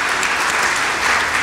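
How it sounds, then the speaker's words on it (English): Applause from an audience at a community rally on immigration enforcement and justice, a steady wash of many hands clapping throughout, loud and close, with no talk over it. "that's worth an applause"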